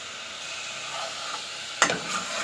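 Ginger garlic paste frying in a pan for chicken karahi, with a steady hiss of sizzling and a sharper scrape of stirring near the end.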